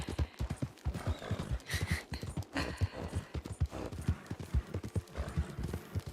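Steady clip-clop of a horse's hooves in Red Dead Redemption 2, a quick even trotting rhythm close by that carries through the whole stretch with a few soft snorts.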